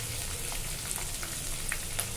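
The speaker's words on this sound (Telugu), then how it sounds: "జీడిపప్పులు కూడా అయితే మనం వేగనిద్దాము." Cashew nuts frying in a pan for Bombay rava upma, a soft, even sizzle with light crackles throughout.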